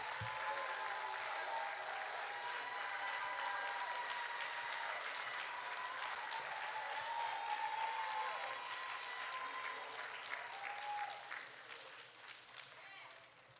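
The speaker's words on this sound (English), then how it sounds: "let's give our graduates another round of applause." Sustained audience applause for graduates at a boys' academy ceremony, a dense, steady clapping wash that holds for most of the stretch before thinning out near the end, with faint voices mixed in.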